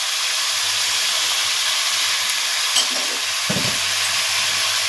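Mutton frying in hot oil with roasted spices and cardamom over a strong flame, a steady loud hiss and sizzle throughout with a couple of brief stirring knocks near the end, no voices.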